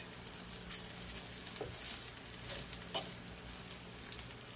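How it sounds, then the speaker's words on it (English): Oil sizzles and crackles steadily as plantain fries close by in a little oil, with occasional soft pops and stirring sounds. "Let's just fry up these plantain before we do anything else."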